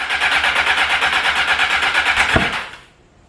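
A car engine runs with a pulsing, fast rhythm, then lets out one loud, sharp backfire pop near the end before the sound drops away.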